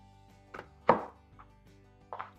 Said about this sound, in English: Cut that in half.